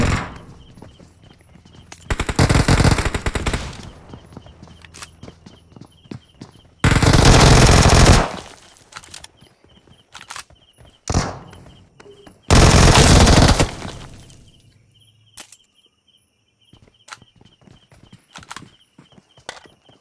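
Shotgun gunfire in a mobile shooter game: three loud sustained bursts of shooting separated by quieter stretches of scattered clicks, footsteps and single sharp shots, with no talking over it.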